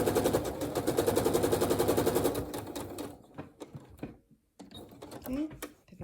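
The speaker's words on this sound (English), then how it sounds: "start stitching around." A sewing machine stitches around printed fabric in a rapid, steady mechanical chatter for a couple of seconds, then stops and gives way to handling noises and scattered clicks, with talking over parts of it.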